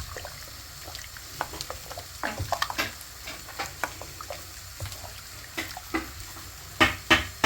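Sambar being stirred in a cooking pot, with soft scraping and splashing of liquid, intermittent ladle knocks and clinks, close and fairly quiet, no talking.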